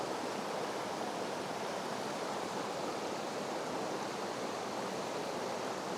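A river cascading over boulders in a Dartmoor autumn woodland gives a steady, dense broadband rush of flowing water, even and unbroken, heard alone without voices.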